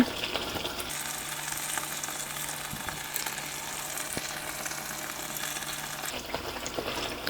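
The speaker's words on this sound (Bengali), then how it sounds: "পিঠাটা যখন এরকম তেলে ফুলে উঠবে তখন এই পাশটাকে আমি উল্টে দিতে হবে" Palm pitha deep-frying in hot oil gives a continuous, even sizzle and bubbling hiss close by, with a brief clatter near the end and no talking.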